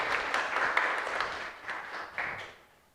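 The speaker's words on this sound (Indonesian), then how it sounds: "Kita kasih tepuk tangan yang meriah atas penyampaian yang luar biasa ini." Students in a high school Islamic studies class applauding a group presentation, lively clapping with a few louder claps standing out, tapering off toward the end.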